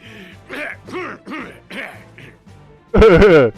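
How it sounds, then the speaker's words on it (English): A character in the video game Trials of Mana coughs and clears his throat in a short, loud burst at the end, after a stretch of game dialogue voices. "He's coughing"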